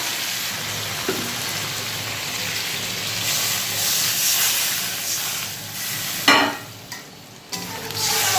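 Water is splashed into spiced masala frying with potato and eggplant, setting off a burst of loud hissing steam over a steady background sizzle, then settling back to a simmering fry.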